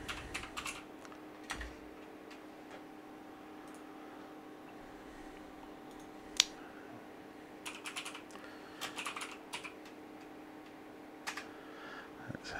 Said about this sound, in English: Excuse my clanging keyboard.